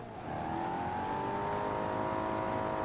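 Simulated car engine in the driving game BeamNG.Drive, overheating with its coolant failing, gives a steady, loud, strained droning hum that rises slightly in pitch and holds continuously with no talk over it.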